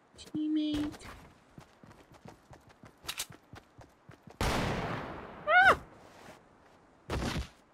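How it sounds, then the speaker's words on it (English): Gunfire in a Fortnite match, with bursts of shots and sharp game sound effects spread over several seconds, some close and loud, others lighter, mixed with a voice talking. "Yep, of course they get in a gunfight when I leave."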